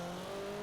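Low, steady engine drone from a Toyota in Forza Horizon 4, held at about 2000 RPM with the throttle floored and turbo lag, a constant hum with no rise in pitch over a brief moment.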